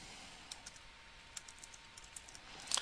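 Quiet keyboard typing in short scattered clicks, a few soft keystrokes spread across the stretch and a small cluster near the end, with no talking.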